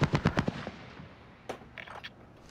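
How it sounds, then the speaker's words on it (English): Rapid burst of video game gunfire in a tactical shooter, several loud close cracks in quick succession, then fainter scattered shots trailing off. "got caught in a gunfire."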